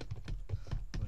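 Keys clattering on a computer keyboard in quick, uneven bursts of clicks, close up and alone with no voice over them.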